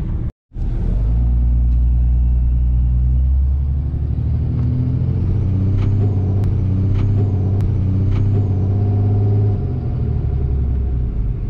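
A Cummins diesel truck engine runs at a steady, deep, rumbling idle close by. A brief break comes near the start, then a continuous throaty drone holds, with faint higher whines above it and no voices.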